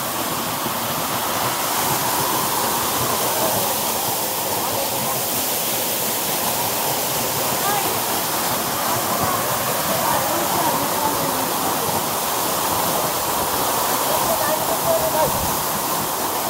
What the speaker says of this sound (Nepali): धेरै लामो मेहनतपछि हामी झरनामा आइपुगेका छौँ। हेर्न सक्नुहुन्छ झरना